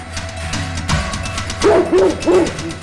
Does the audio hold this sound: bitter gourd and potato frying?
no